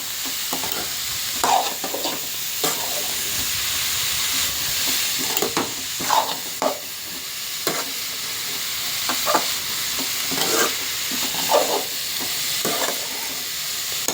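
A spoon stirs raw papaya curry in a hot pan after salt goes in. A steady sizzling hiss runs under repeated scraping strokes, close and fairly loud, with no talking.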